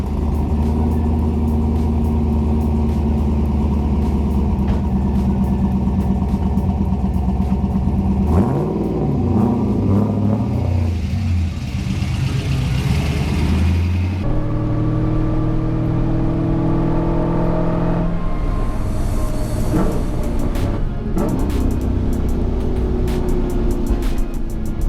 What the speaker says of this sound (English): So now I'm just gonna go for a drive and see how it handles